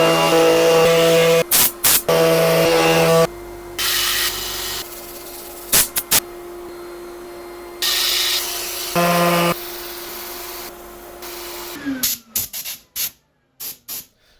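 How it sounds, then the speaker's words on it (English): A rotten wood turning is sanded on a lathe: a steady motor hum under a loud, rough abrasive hiss that cuts in and out in bursts, then stops near the end with a few scattered knocks. "I'm going to set up for sanding."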